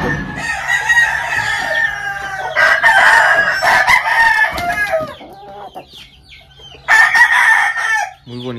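A roundhead rooster with yellow legs crows loudly several times, with long drawn-out calls close by, separated by brief pauses and some softer clucking.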